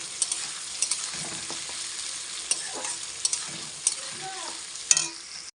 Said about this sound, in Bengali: পেঁয়াজগুলো একদম গোল্ডেন ব্রাউন কালার করে ভেজে নিতে হবে, একদম লাল লাল করে।